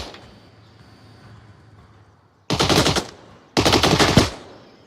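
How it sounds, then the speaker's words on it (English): Two long bursts of rapid automatic gunfire in a competitive video game match, loud and close, following a quieter stretch of ambient game noise. "Still getting some shots took at him"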